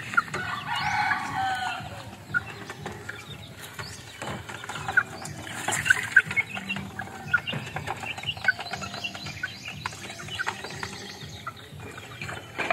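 Backyard chickens and chicks cluck and peep steadily, with a rooster crowing at moments, their calls close and overlapping against a busy rustling background.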